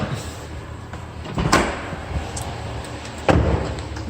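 On a 2017 Nissan Versa sedan, the trunk opens with two sharp mechanical clunks: a latch release, then a heavier thump a couple of seconds later, close and fairly loud.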